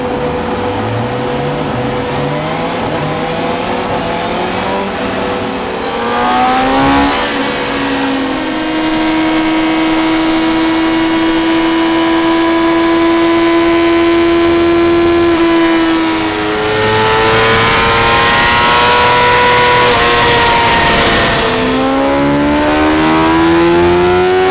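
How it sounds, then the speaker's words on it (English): BMW M1000XR motorcycle run up on a dyno, its engine loud and close, climbing steadily through the gears in long rising sweeps with brief shifts between them, then dropping back and pulling again. "Let's get it run up on the dyno."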